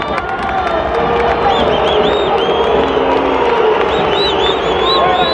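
Home stadium crowd at the end of a Pachuca vs América football match, a dense sustained roar of jeers with sharp whistles cutting through, loud and continuous.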